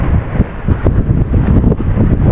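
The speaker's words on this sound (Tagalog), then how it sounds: "Lakas ng hangin." Strong monsoon wind by the sea buffets the microphone in steady low roaring gusts, with a dense rumble that never lets up.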